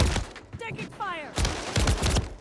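Gunfire in the battle-royale game Call of Duty: Warzone, sharp bursts of shots cutting in over a busy game mix, with a voice speaking briefly between the bursts.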